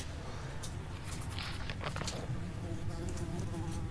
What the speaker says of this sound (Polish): Muchy na ekranie.